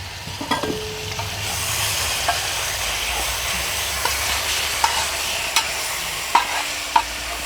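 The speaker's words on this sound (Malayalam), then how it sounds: "നമ്മുടെ ചിക്കനൊക്കെ ഒന്ന് നന്നായിട്ടൊന്ന് വെന്ത് വരണ വരെ നമ്മൾ ജസ്റ്റ് ഒന്ന് ഇളക്കിയിട്ട് കൊടുക്കുക" Marinated chicken with its spice paste frying in a pot for Hyderabadi biryani, a steady close sizzle with a few light scrapes and clinks of the stirring spoon against the pot.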